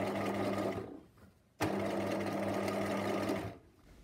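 A sewing machine stitches a twin-needle hem on jersey fabric with a loud, close, steady whirring run, then a short pause and a second run of stitching.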